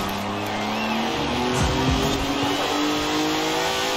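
Car accelerating hard in Forza Horizon 4, an upgraded car topping 300 km/h, its engine roaring loud and steady with rising revs and a brief tire squeal midway, over game background noise.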